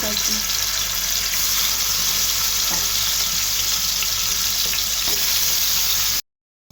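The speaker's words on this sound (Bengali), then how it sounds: "মাছগুলো ভাজা হয়ে গেছে" Fish frying in oil in a frying pan, a dense continuous sizzle with faint stirring, close and steady, cutting off abruptly at the end, without any talking.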